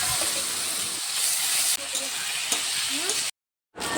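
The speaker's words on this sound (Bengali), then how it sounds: "পেঁয়াজগুলি ভাজা হয়ে যাওয়ার পর তার মধ্যে মশলা দিয়ে দিলাম।" Spices and onions frying in a wok make a continuous loud sizzle and hiss, with faint stirring scrapes and a brief pause near the end.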